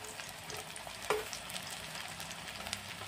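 Potato fritters (aloo bora) frying in oil and being turned over, a soft steady sizzle with one clear clink of a utensil against the pan as they are flipped.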